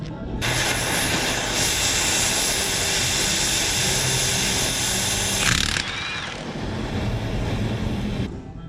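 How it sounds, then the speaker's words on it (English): Impact gun spinning a homemade Allen key welded to a socket, a loud sustained buzzing rattle for about five seconds, then a brief pause and a second, slightly quieter run, with no talking. "make myself an Allen key that I can use with my impact gun"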